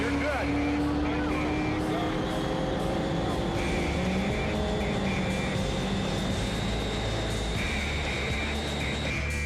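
Bub's streamliner motorcycle accelerating hard across the Bonneville Salt Flats, a loud continuous engine roar with rising tones and steady wind rush throughout, with voices talking over it.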